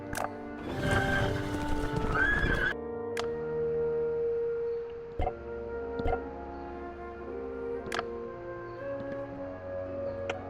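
Horse sounds from a horse-race minigame in the puzzle adventure game Dark Parables: Curse of Briar Rose, with a burst of hooves and a whinny at first, then scattered clip-clops and ticking over quiet game music.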